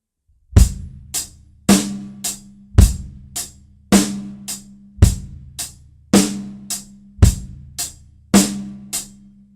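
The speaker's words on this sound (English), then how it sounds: "Our next subdivision is going to be eighth notes on the hi-hat" Drum kit groove with eighth notes on the hi-hat: a steady stream of crisp, evenly spaced hi-hat ticks with heavier accented beats and low kick and snare hits, played close and loud without any voices.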